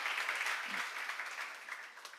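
An audience at a church seminar on Romans claps in steady, even applause that fills the room at moderate loudness and holds without a break.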